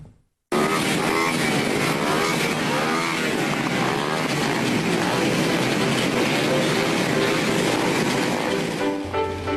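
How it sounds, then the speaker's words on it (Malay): High-powered motorcycle engines roar continuously at a bikers' gathering in Beaufort, Sabah, a loud dense rumble with shifting revs from several machines, running from a sudden start to the end with no talk. "Beaufort bergegar dengan deruman enjin motosikal berkuasa tinggi"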